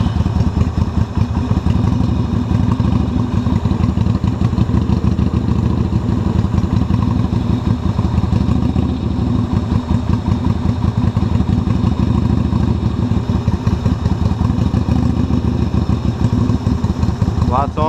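A motorcycle engine runs steadily after a jump start, a loud continuous idle with a rough clattering pulse that holds for the whole stretch, with no voices over it.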